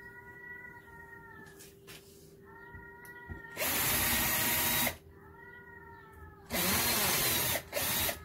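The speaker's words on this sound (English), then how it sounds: "She's like meowing on the other side of the door" A cat meows repeatedly from behind a door in a tonal, drawn-out call, twice cut off by loud bursts of a power drill running during a lockdown van build.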